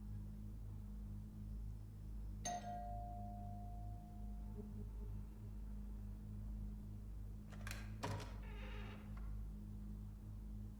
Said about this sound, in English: Should we maybe ring the doorbell?